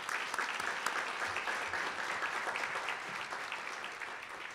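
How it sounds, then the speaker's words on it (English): An audience at a business panel event claps in a steady, even round of applause, moderately distant and fairly quiet, with no talking over it. "So why don't we all give Andrea a round of applause?"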